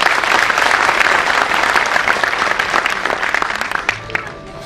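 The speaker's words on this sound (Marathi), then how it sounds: "जोरदार टाळ्या वाजवूया" Loud, dense applause from a large audience at the Kokan Sanman award ceremony, a steady roar of many hands clapping that thins and fades near the end.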